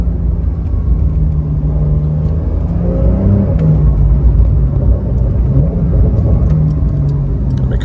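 A Porsche 911 engine growls loudly and steadily close by, its pitch rising and falling through a downshift and revs, with a few faint crackles.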